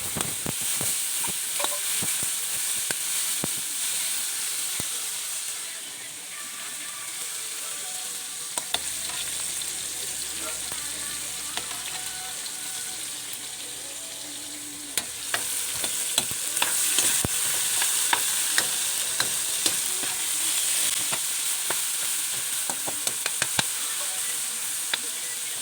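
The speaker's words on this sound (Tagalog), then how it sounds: "naggisa na nga ako ng bawang, sibuyas, ganun na rin ang kamatis." Garlic, onion and tomato sauté in a pan for Tagalog-style pinakbet: a continuous close sizzle and hiss with scraping stirring clatter and scattered sharp ticks, lasting throughout without any voices.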